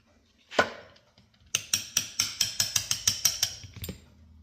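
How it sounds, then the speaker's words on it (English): A pin being removed during disassembly of a Browning Hi-Power pistol, a single sharp metallic knock followed by a quick series of about a dozen evenly spaced metallic taps, close and clear without speech. "Take this pin out right here."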